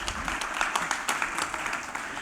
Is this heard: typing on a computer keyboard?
no